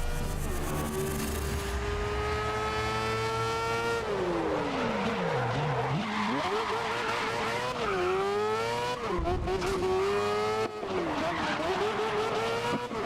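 A race car in the GRID (2019) video game roars continuously at high revs with engine pitch sweeping up and down through gear changes, joined by tire squeal as it skids through corners.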